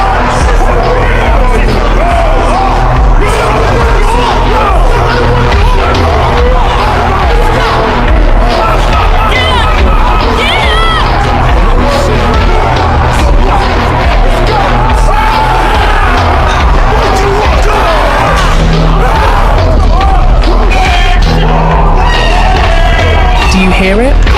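Gym crowd of people lifting weights, screaming and yelling loudly and continuously amid dense babble and clanking, a constant roar with no pauses.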